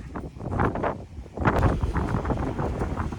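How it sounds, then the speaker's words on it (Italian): Strong, freezing wind roars across an exposed mountain slope on Monte Cornetto (Sengio Alto). It buffets the microphone in rough, rushing gusts that rise and fall for a few seconds, with no voices. "il vento qui è implacabile"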